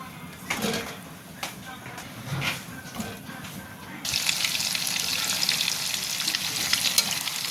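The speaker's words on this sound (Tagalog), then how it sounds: "Prito natin guys." Goat meat for caldereta frying in a pan: after a few quiet stirring scrapes, a loud, steady sizzle starts abruptly and continues to the end.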